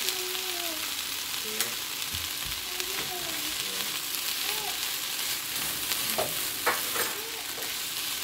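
Peppers fry in a pan for jerk chicken and shrimp pineapple boats, a steady close sizzle with occasional stirring scrapes and clicks, no voices.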